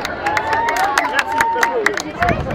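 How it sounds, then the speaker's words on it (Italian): A studio audience claps and cheers for a guest on the Italian TV show Amici di Maria De Filippi, a lively burst of applause with crowd noise under a loud voice speaking over it. "Un applauso anche ad Amato!"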